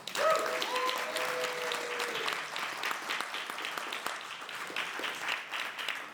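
An audience at a standup comedy tournament claps for comedian Craig Collin, steady sustained applause at moderate volume without talk.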